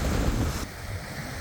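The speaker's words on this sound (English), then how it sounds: "It sure is windy today." Strong wind buffets the microphone outdoors on a beach in Alaska, a loud, rough rushing with surf-like noise, no voices.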